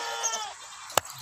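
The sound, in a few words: goat bleating, Rajanpuri goat for sale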